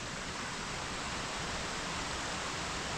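A forest creek in the Olympic Forest, a couple hundred yards above Spoon Creek Falls, gives a steady, broad rushing of flowing water, constant and fairly soft with no voices.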